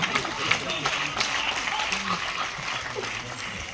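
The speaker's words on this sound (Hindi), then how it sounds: "चले शंभू के लिए तालियां बजाइए" An audience claps at a Hindi comedy poetry gathering at MDU Rohtak. The applause is dense and continuous, and a voice speaks over it.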